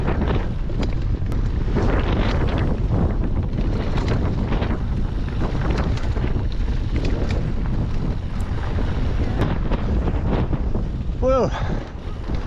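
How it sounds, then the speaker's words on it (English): Strong wind buffets the microphone on a mountain bike ride along a rocky switchback trail in the Arizona pines, a loud continuous roar with tire rumble and brief voices underneath. "It's a wind fest."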